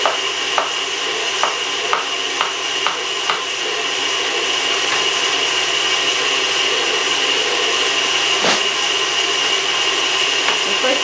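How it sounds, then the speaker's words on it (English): Bananas sliced with a knife for Chessman banana pudding, a series of soft, evenly spaced cutting taps close by over a steady kitchen background hiss. "So I'm just going to cut them in slices."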